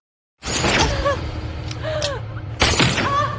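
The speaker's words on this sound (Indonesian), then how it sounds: "Terjadi aksi tembak-tembakan antara tentara dan juga teroris." Bursts of gunfire crack through a chaotic film hijacking scene between soldiers and terrorists, one volley near the start and another toward the end, with voices and dense noise between.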